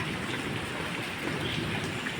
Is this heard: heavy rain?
yes